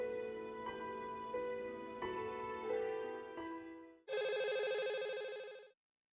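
A telephone rings in repeated electronic bursts, then a louder, denser ring tone sounds for about two seconds before stopping abruptly.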